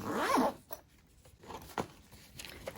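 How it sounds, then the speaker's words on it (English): A small zip-up Trapper Keeper binder being zipped closed, with a louder zipping burst at the start followed by fainter scrapes and clicks of the zipper, close and alone. "It's basically the same idea as the binder, except that everything zips up."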